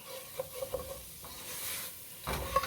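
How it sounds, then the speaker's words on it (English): Red chili powder stirred quickly in a pan for chile con carne with ground beef, soft scraping strokes and a light sizzle, faint and close, with no talk. "add our red chili powder. And stir it really quick."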